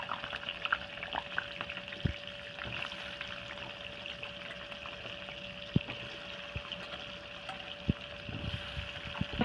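Boiled jackfruit and potatoes sauté in a pan, giving a continuous close sizzle over a faint steady hum, with a few sharp spatula knocks against the pan as they are stirred.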